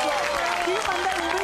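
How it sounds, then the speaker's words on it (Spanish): Studio audience applause on an Argentine TV entertainment show, a steady crowd clapping wash lasting about a second and a half, with voices talking loudly over it. "Fuerte el aplauso."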